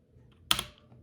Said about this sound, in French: On va faire un petit peu de clavier sound.